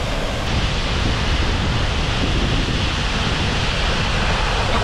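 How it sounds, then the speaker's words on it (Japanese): A high-volume waterfall with a large plunge pool near Fujinomiya, Japan, roars in a dense, continuous rush of water, loud and close, with no pauses or voices. "滝壺も大きいのでどれだけ水量が多いかよくわかる。"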